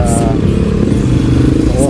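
Heavy traffic with many motorcycles on a road from Makati to Manila, a steady loud engine drone and rumble with passing bikes close by, and a few brief horn-like tones.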